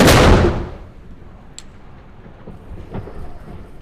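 Historic gunpowder cannon fired outdoors in Valletta, Malta, a single loud, deep boom at the start that rolls off into a long, fading rumble and echo.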